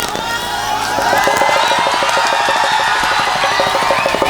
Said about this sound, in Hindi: ये तालियां हमारे लिए थी क्या गाइस?